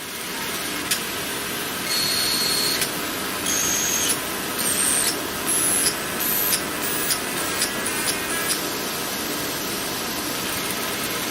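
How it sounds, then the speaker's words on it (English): A 30W fibre laser strikes and strips aluminium with a constant loud hissing buzz, broken by short high-pitched whistling tones that come and go in irregular bursts. "You can actually hear the laser hitting the material. Now it's just stripping off the aluminium."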